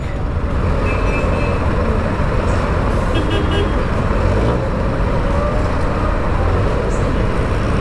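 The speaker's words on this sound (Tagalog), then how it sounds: "traffic." Dense road traffic at Divisoria with no stoplights rumbles steadily, and car horns toot faintly now and then through the constant engine roar.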